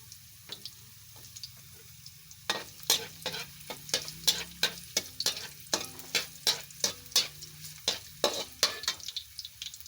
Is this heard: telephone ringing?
no